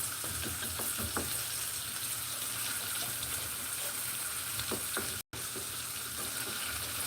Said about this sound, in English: I'm just cooking it down. I'll try to crush them a little bit. Just cooking the onions down.